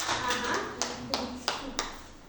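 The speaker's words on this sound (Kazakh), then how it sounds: "Балар қол шапалақтап қойып" Children in a second-grade school classroom clap their hands, making four soft, separate claps spaced unevenly over a couple of seconds against faint room noise.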